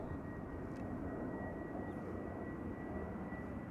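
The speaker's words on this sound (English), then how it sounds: "BA flight 433 on its way to London Heathrow." A British Airways jet airliner departs Amsterdam Schiphol for London Heathrow, giving a steady, fairly faint engine roar that holds evenly throughout with no voices.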